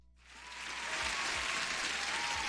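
Steady applause from a gathered audience swells in after a brief quiet start and holds as dense, continuous clapping for the rest of the moment, loud and unbroken with no talk over it.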